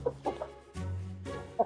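Hen bred from an Orava and silkie chicken cross, giving a few short soft clucks and a longer low purring call, close by with no talk.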